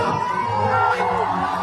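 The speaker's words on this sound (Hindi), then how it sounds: "पागल भैया के लिए जोरदार ताली और हल्ला करो" A large crowd at a Bhojpuri stage show cheers and whoops loudly, a dense, continuous roar of shouting voices filling the whole moment.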